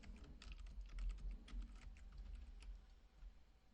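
Rapid, uneven keystrokes on a computer keyboard as a password is entered into a web form, light clicking taps close by with no voices.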